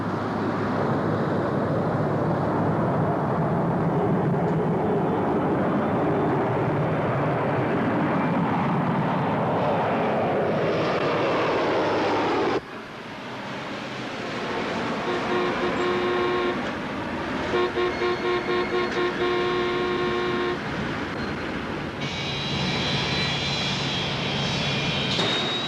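Airliner jet engines roar loudly at full power during the takeoff roll on an icy winter day, a dense sustained rushing that shifts tone midway, with tonal whines and alarm-like beeps layered on top.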